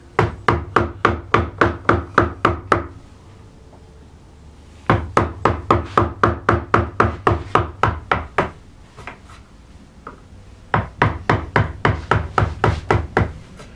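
A carving gouge is struck into wood for a floral panel, giving rapid, evenly spaced sharp knocks in three long bursts with short pauses between, close and loud, with no talk.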